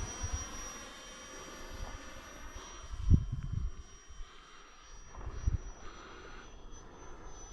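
A 3-cell motor RC foam jet flies at a distance, its faint whining drone steady under wind buffeting and a couple of louder gusts; no talking.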